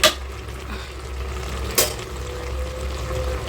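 Potatoes fry in mutton fat with a constant soft sizzle. Two sharp utensil clanks against the pan come at the start and again partway through.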